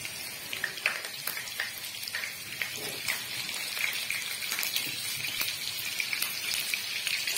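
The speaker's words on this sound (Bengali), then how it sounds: "আমি এখানে আলুটাকে ভালো করে কষে নিই" Potatoes fry in mustard oil in a hot frying pan, giving a steady, dense sizzle with scattered crackles and pops that run continuously without talk.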